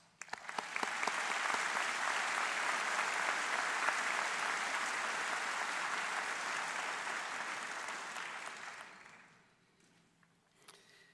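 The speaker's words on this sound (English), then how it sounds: "I would now ask that we honor those seniors who have received scholarships with our applause" Applause from a graduation ceremony audience at Cathedral High School honoring scholarship-winning seniors: a sustained, full round of clapping that builds quickly, holds steady for about eight seconds, then fades out, leaving quiet room tone.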